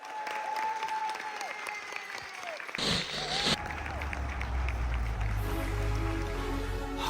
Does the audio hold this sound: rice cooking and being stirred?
no